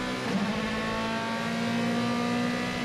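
Onboard a DTM race car at the Lausitzring, the engine note climbs steadily as revs rise, a loud sustained tone with a faint tire noise underneath and no talk.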